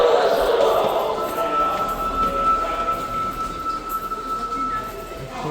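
Two Osaka metro trains move through a station with a steady rolling rumble and a sustained tonal whine, set against a busy platform murmur.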